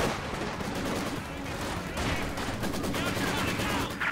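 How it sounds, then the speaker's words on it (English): Heavy machine gun fire in Company of Heroes 2, a World War II battle game, with rapid bursts layered over dense continuous battlefield din and explosions, loud and steady, with faint voices in the mix. "Use the HMG to suppress those Panzer grenadiers!"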